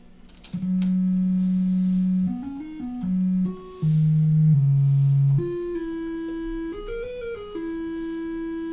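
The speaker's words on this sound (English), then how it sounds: "So for comparison's sake, a triangle wave" A synthesizer plays a triangle wave as a sequence of smooth sustained tones stepping up and down in pitch, clean and steady, with no voices.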